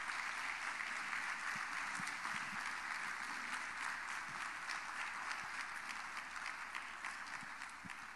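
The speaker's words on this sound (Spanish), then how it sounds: "dele un aplauso al Señor y así comenzamos" A church congregation claps together during a Spanish-language Bible study service, a steady, dense applause that holds for several seconds at moderate distance before easing slightly at the end.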